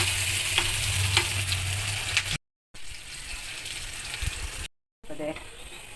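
Onion and green chili fry in a pan for a chopped broad-bean stir-fry, a steady crackling sizzle with a low hum underneath, broken by two brief silent gaps.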